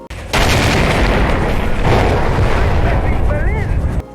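A C4 explosion in the Far Cry 3 video game, a loud, sustained rumbling blast lasting several seconds, with debris crackle and a brief whistling tone near the end.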